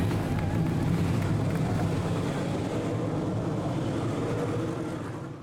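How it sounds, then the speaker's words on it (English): Race car engines fire up at the start of a race at Sebring, a thick, steady mass of low engine rumble that stays loud and even, then eases slightly toward the end, with no voices on top. "Drivers, start your engines."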